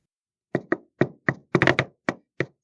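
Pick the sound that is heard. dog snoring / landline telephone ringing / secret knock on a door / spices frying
secret knock on a door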